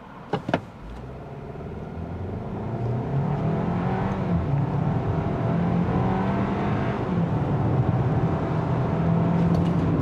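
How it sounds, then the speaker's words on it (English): Hyundai Kona N-Line turbo small SUV, 2024 model, pulling hard at full throttle from a standstill, a steady engine drone building and holding loud through the run with road and wind noise, no talking. "This time I'm not going to brake torque, we're just going to floor it."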